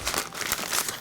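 Parchment paper crinkles and rustles continuously for about a second as a log of herb garlic butter is rolled up in it, close and fairly loud.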